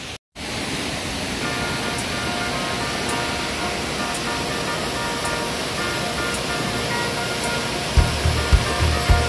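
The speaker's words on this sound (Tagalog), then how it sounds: "3-layer waterfalls." Steady, loud broadband roar of a three-tiered waterfall at Maria Aurora, constant rushing water filling the whole clip, with a few brief knocks near the end.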